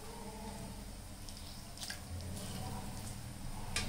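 Soaked lentil vadas for dahi vada, squeezed by hand to press the water out: faint wet squelches and drips over a low, steady background hum, with no talking.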